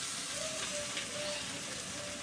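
Jute leaves fry in a pan of hot oil with onions, a steady, fairly quiet hiss and sizzle with no talk.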